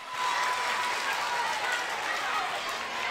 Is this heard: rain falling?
no